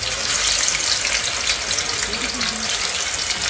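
Fish frying in a pan, a continuous bright hiss and sizzle of hot oil, steady and close, with voices talking faintly underneath.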